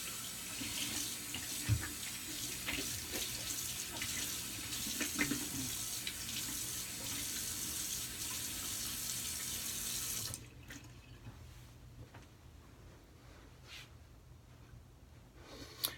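Tap water runs steadily into a bathroom sink while alum is rinsed off after a shave, a close, continuous hiss that cuts off abruptly partway through, leaving faint splashes and handling noises.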